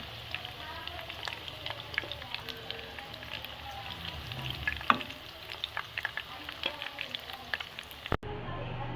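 Meatball koftas fry in hot oil in a pan, giving a steady close sizzle with frequent small crackles and pops. A brief thump comes near the end, and no one speaks.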